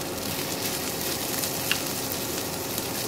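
Okra frying in oil on a griddle over full heat makes a constant close, loud sizzle, broken by a few faint pops.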